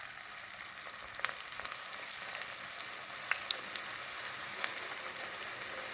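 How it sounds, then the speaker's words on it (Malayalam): Cauliflower pieces deep-fry submerged in hot oil in a pan, giving a steady close sizzle and bubbling hiss with scattered crackles and pops that swell slightly partway through, and no voices. "എണ്ണ നന്നായി മുങ്ങിക്കിടക്കുന്ന രീതിയിൽ വേണം നമുക്കിത് ഫ്രൈ ചെയ്തെടുക്കേണ്ടത്"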